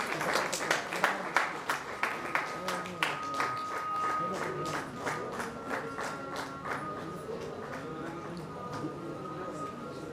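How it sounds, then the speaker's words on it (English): Audience applause at an award ceremony presenting banking awards, rhythmic clapping from a crowd that swells and then settles into steady sustained clapping, with a presenter's voice and a faint tone running underneath. "Please put your hands together"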